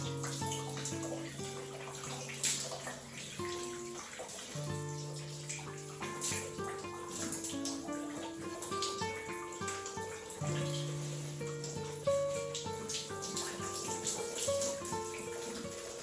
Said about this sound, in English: I just go ahead to wash this out of my hair